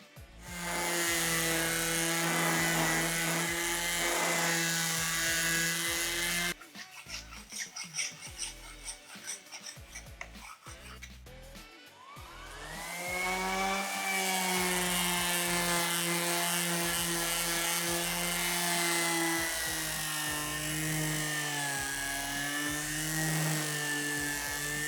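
Powered sander with 240 grit paper buzzing steadily over a wooden end grain chopping board, loud and close, with a brief rougher, irregular stretch midway before the smooth whine resumes.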